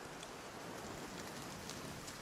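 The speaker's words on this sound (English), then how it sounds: "In the rain. I don't like the rain." Rain in the survival video game Nightingale forms a faint, steady wash of hiss without breaks or distinct drops, with no one speaking.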